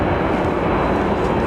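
Airplane flying over Heathrow Airport, a steady broad jet roar held at constant loudness throughout, fairly near and unbroken, with no voices.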